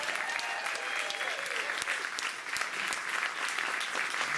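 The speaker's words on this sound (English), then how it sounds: "Can we give them a round of applause again?" An audience claps for eight candidates in sustained, dense applause that stays fairly even throughout, with scattered individual claps standing out and faint voices mixed in.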